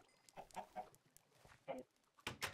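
Minecraft chickens clucking in soft, scattered bursts, several short faint clucks spread irregularly with quiet gaps and a couple of sharper clicks near the end, no speech.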